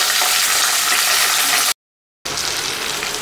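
Green chillies fry in hot oil in a pan, a steady loud hiss and crackle that cuts out briefly and then carries on just as strongly.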